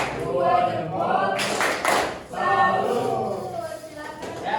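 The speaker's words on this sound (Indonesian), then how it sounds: "Apresiasi untuk kelompok Berata. Tepuk tangan." Group applause in an Indonesian classroom for a presenting team, a burst of clapping from many hands rising mid-clip with voices talking around it.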